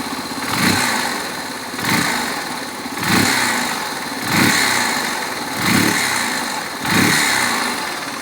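A Yamaha Big Wheel BW200 motorcycle engine runs close by in a steady idle, with rhythmic swells in revs roughly every second, and no voices.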